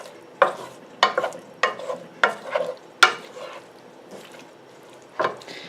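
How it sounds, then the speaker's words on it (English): Spices for aloo gobi are stirred in a pan over low heat, giving a series of distinct scraping and clinking strokes, about eight separate stirs over a quiet, faint background. "And just give this a quick stir."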